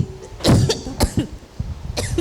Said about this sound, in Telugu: ఏంటి అలా దగ్గుతుంది